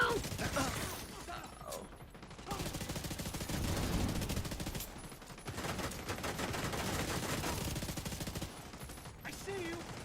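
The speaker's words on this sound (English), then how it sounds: "Taking heavy fire." Heavy gunfire in a video game crackles in dense, rapid automatic bursts with short gaps between volleys, loud and close, under occasional speech.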